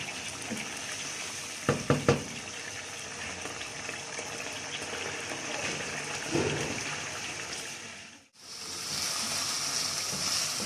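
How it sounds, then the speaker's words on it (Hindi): Chicken frying uncovered in a pan, giving a steady, close sizzling hiss throughout, with a few quick clatters around the two-second mark and a brief dip near the end. "चिकन डाल के इसको अच्छी तरह भून लेते हैं।"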